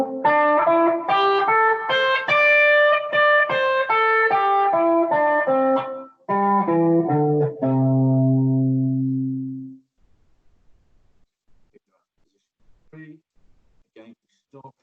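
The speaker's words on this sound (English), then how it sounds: "So position 2 sounds like this." An electric guitar with an effects unit runs through the second position of the pentatonic scale, a steady run of single notes ascending and descending, ending on a sustained low note, then faint scattered sounds.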